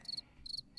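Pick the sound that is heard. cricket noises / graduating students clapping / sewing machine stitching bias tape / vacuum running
cricket noises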